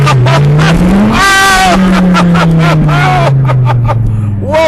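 A Dodge Viper on a thrill-ride course gives a loud, close engine drone with a long sweeping pitch, under excited chatter and shouting from the people inside.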